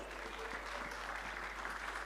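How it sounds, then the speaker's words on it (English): An audience at a public hearing on a provincial petitions bill gives a brief round of applause, a dense, even wash of clapping heard faint and at a distance. "Can you please give her a round of applause?"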